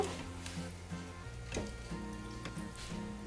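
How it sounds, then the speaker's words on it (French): Beef stew thickened with a cornstarch slurry is stirred in an Instant Pot, giving soft wet scraping and sloshing strokes with a few sharper clinks of the utensil against the pot, close up and steady, with no voices. "Nous mélangeons délicatement la préparation."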